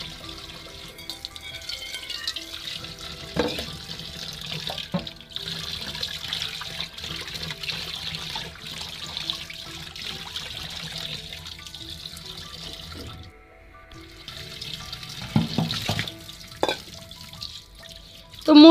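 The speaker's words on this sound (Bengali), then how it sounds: "এবার আমি মুরগিটাকেও ধুয়ে নিব।" Tap water runs into a kitchen sink as raw chicken is washed, with steady splashing and trickling close by and occasional louder gushes and clatters.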